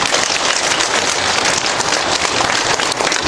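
A church congregation applauds together, a dense, loud, continuous burst of clapping filling the room for several seconds with no talk over it.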